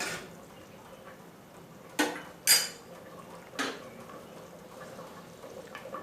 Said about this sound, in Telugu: మరొకసారి బాగా కలుపుకొని